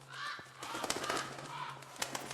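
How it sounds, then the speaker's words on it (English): Birds in the horror video game Close to the Sun, faint and distant chirps and calls over a low electrical hum in a quiet game soundscape. "It's birds."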